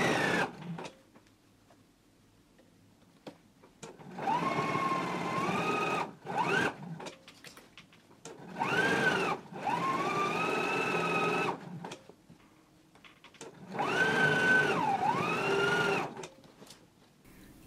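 A sewing machine stitches a pants waistband seam in three distinct bursts of fast, whirring stitching, loud and close, separated by quiet pauses with faint handling.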